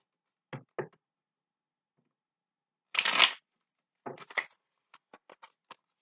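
Tarot cards are shuffled and handled in short bursts: two quick riffles, a longer shuffle, then a scatter of light taps and card snaps, close and quiet against silence.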